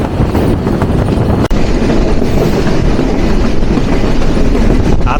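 Chitra Express passenger train running on the rails toward Hardinge Bridge over the Padma River between Bheramara and Pakshi, with loud, steady wheel rumble and clickety-clack heard from onboard, continuous throughout.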